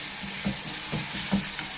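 Curry leaves sizzling in hot oil during tempering, a steady frying hiss with a few soft pops and stirring scrapes, close and alone.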